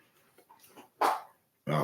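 Dog barking indoors, two loud, sharp barks separated by a short pause, with quieter sounds before them.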